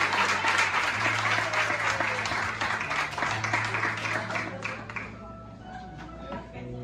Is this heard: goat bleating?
no